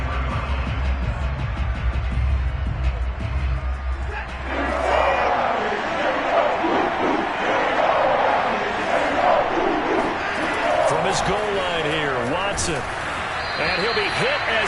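Roaring crowd noise from the Cleveland Browns' Dog Pound section at a football stadium, a loud continuous wall of cheering and yelling that swells midway, with commentary voices underneath.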